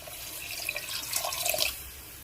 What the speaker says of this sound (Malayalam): നേരത്തെ എടുത്ത വെള്ളം തികയാത്തതുകൊണ്ട് കുറച്ചുകൂടി വെള്ളം ഒഴിക്കുകയാണ്